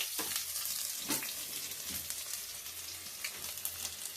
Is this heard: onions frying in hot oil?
yes